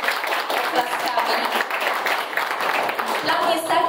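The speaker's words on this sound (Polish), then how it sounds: "Możemy ich przywitać oklaskami." Audience applause welcoming guests at an event on confronting fear, a steady dense patter of many hands clapping throughout, mid-distance and fairly loud, with a murmur of voices mixed in.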